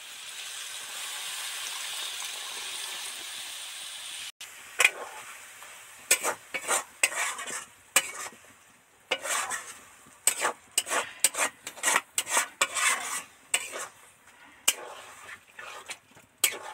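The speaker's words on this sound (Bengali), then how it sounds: "সবকিছু নেড়ে চেড়ে মিশিয়ে দিলাম।" A spoon stirs banana flower curry (mochar ghonto) with spices and added water in a pan, first a steady wet sizzle and then a run of quick, uneven scraping strokes, close and fairly loud, with no talk.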